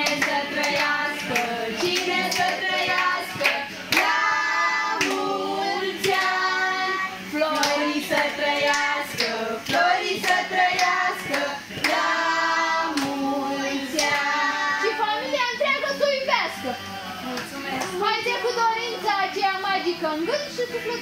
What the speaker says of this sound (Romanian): Bravo, aplauze, vă rog!